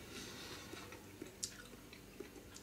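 Close, quiet chewing of a chocolate-coated vanilla Choc Top ice cream, with a few sharp crunches from the crisp dark chocolate shell scattered over steady soft mastication and no talk.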